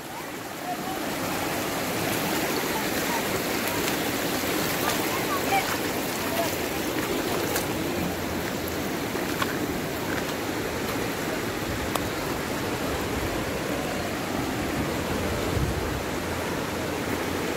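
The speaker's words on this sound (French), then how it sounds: "Il y a la rivière qui se sépare en deux." A forest river splitting into two channels rushes steadily and continuously, a broad, even wash of flowing water that holds at a constant level throughout.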